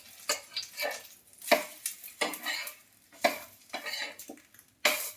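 Fish chops frying in a pan make bursts of sizzling and stirring scrapes in uneven pulses, close and moderately loud, with occasional utensil clinks.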